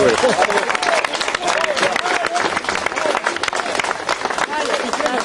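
An audience at a community gathering applauds, a dense continuous wash of many hands clapping close by, steady and loud throughout.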